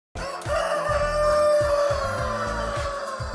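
Shika Brown chickens in a flock, a rooster crowing loudly and close amid overlapping clucks and calls from other fowl, continuous and busy throughout.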